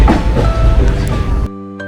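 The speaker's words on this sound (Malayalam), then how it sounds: "അത് കഴിഞ്ഞ് ട്രെയിൻ പതിയെ സ്റ്റാർട്ട് ചെയ്തു." A train slowly pulling away from a level crossing in Kerala, its low rumble and soft wheel clatter filling the foreground before cutting off abruptly near the end.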